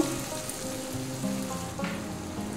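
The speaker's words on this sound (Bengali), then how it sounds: "এরকম নরম করে পেঁয়াজটা ভেজে নেব" Soft, even sizzling of onions gently frying until tender in a pan for a chicken and potato curry, a quiet continuous hiss with faint crackles and no talk.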